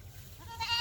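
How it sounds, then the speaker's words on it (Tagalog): Goats bleat near a path at night, a short faint call rising at the end over low background noise. "Yan, mga kambing guys,"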